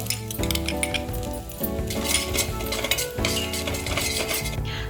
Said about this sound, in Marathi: आता इथे आपण नारळाचा चव टाकलाय, तो थोडा भाजून घेऊया.